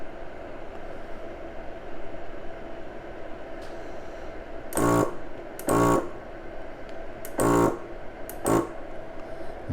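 A FoodSaver-style countertop vacuum sealer runs its pump in four short, loud bursts on pulse vacuum mode, set against a quiet background with no speech.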